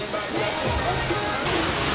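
Water pours down inside a cave at Six Flags Great Escape amusement park, a steady rushing roar of falling water that stays close and loud throughout.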